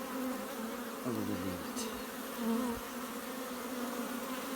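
Honey bees at a hive in swarm mode keep up a steady, dense buzzing throughout, with a few quiet spoken words partway through over the hum.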